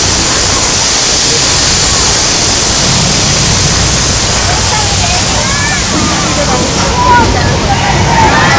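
A Universal Studios earthquake ride flood effect, with loud, steady rushing water roaring throughout and sloshing surges building near the end, close and overwhelming.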